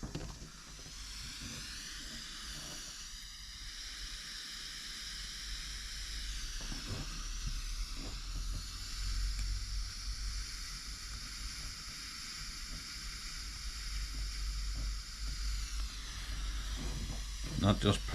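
A soldering iron desoldering ESC wires on a Hobbywing speed controller gives a faint, steady hiss with light sizzling throughout, close but quiet, with a few small clicks near the end.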